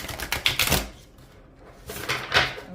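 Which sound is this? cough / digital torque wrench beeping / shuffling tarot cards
shuffling tarot cards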